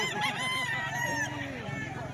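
A rooster for sale in Lipa, Batangas, crows loudly and close in long drawn-out calls that overlap with other fowl calls, with faint voices in the background.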